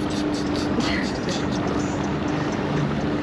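Motorboats motor through shallow inshore flats near Tampa/St. Pete, a steady engine drone and wind-blown rush running continuously at moderate distance, with a low hum underneath throughout.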